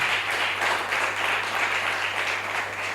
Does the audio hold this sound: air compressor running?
no